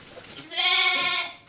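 An orphan lamb from a sheep farm at Soberton gives one loud, close, drawn-out bleat after a moment of quiet, with fainter background sound underneath.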